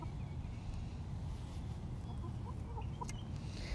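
Soft, intermittent clucking from a sick chicken outdoors, faint over a steady low rumble of background noise.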